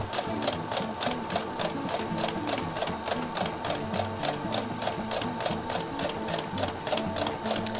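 A sewing machine stitches maroon bias binding onto an apron, a fast steady rattle of needle strokes running continuously and close by, with no talking.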